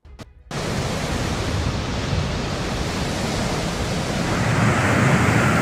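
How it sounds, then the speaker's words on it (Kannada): Rough sea waves crash on the Karnataka coast in heavy rain, a loud, continuous roaring wash that swells slightly toward the end, with no voices. "ಕರಾವಳಿಯಲ್ಲಿ ಮಳೆಯ ಜೊತೆಗೆ ಸಮುದ್ರದ ಅಲೆಗಳ ಅಬ್ಬರವು ಕೂಡ ಜೋರಾಗಿರುವಂತದ್ದು"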